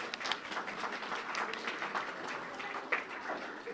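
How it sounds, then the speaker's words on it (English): Clapping from the audience at a community fund's annual meeting, a moderate round of applause heard from within the room, steady and fairly soft throughout. "Round of applause."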